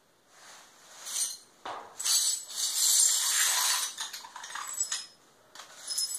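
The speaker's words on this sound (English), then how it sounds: "Clean up glass." Broken glass bottle being cleaned up: bright clinks, scrapes and tinkling shards pushed and gathered on a hard surface, close and irregular, with no talking.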